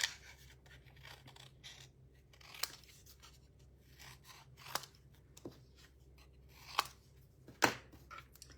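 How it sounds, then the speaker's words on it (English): Scissors snipping apart die-cut paper leaves for a handmade card, a few quiet, crisp cuts spaced irregularly among soft paper rustling and handling, close up with no talking. "So I'll just cut these ones apart as well."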